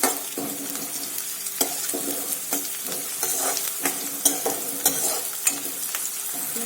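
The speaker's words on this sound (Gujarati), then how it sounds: "ગેસની ફ્લેમ હવે આપણે થોડી વધારે કરી અને આ ડુંગળીને સાતરી લઈશું।" Onions sautéing in a pan over a raised gas flame, a steady close sizzle broken by frequent sharp scrapes and clicks of a spatula stirring, with no talking.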